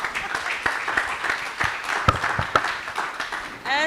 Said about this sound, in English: One more round of applause for her.